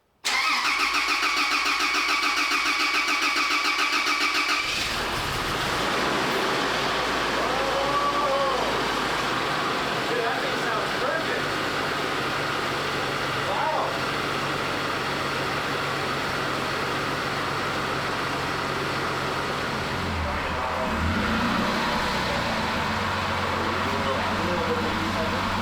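A rebuilt Toyota Land Cruiser engine cranks with a loud, rapid starter whir for several seconds, catches, and settles into a steady idle with a brief stumble, close by, with people talking over it.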